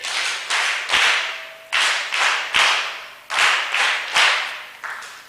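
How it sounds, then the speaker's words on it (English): An audience at a Kenyan research festival side event claps together in a steady, evenly spaced rhythm, each sharp, loud crack ringing out briefly before the next, with no talking between them. "3 nice claps for each one of us"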